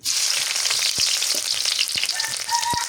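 Chopped onion frying in hot oil gives a dense, close sizzle with a few sharp crackles and pops, loud and steady throughout, with no voices.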